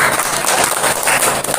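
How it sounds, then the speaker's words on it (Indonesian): Classroom applause for a student group's presentation during a teaching practice session, a dense steady patter of many hands clapping close by, filling the whole short stretch without a break. "Kita berikan tepuk tangan"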